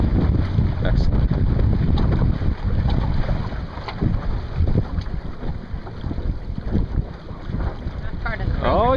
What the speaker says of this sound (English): This Montgomery sure performs well with gusts, I must say.